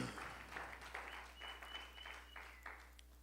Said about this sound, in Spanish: ¿Cuánto le damos una ofrenda de palmas al Señor?